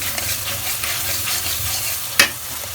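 Spice paste fries in a pot for khichuri, a continuous sizzle with stirring and one sharp utensil clack near the end, no talking.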